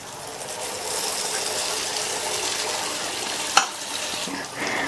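Appam batter going into hot oil in a kadai over a medium flame gives a steady, close, crackling sizzle that holds evenly, with one brief sharp clink partway through.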